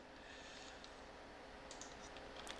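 Typing data on a computer keyboard, faint scattered key taps that grow into a short quicker run near the end, under a steady background hiss, with no talk.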